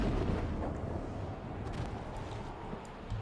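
Heavy booming cannon and mortar blasts from a naval battle in Assassin's Creed Black Flag, a dense rumbling wash of explosions that is loudest at the start and then rolls on steadily.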